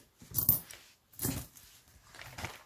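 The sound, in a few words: coins being put into a budget envelope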